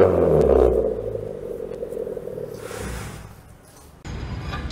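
Car fitted with a custom garage-made silencer exhaust, its engine rumbling loud and close with a low, steady drone that fades briefly before surging back with a sharper burst near the end.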